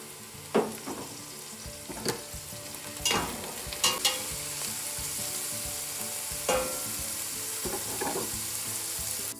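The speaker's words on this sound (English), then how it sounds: "Next we'll add our carrots and celery." Carrots and celery frying in a pot for minestrone, stirred in several distinct scrapes and clatters over a steady soft sizzle, close and moderately quiet with no talk.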